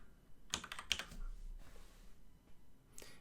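Computer keyboard typing a plugin name during WordPress-style setup: a few sharp, close key clicks in quick bursts, then a short final tap, with no talking.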